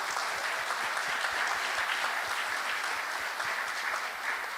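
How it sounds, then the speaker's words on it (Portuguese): An audience at a panel on local development and the sea economy applauds a startup that placed among the top ten in a startup competition. The clapping is dense, steady and even, with no voices over it. "Então, eu gostaria de uma salva de palmas à Terra Mares."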